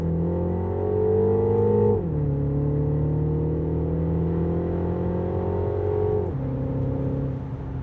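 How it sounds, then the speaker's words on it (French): A Mini Countryman SUV's engine revs and drops through paddle-shift gear changes, two clear downward steps in pitch with a steady drone between them, plus faint exhaust crackle; no one speaks. "On a les petites pétarades dans l'échappement."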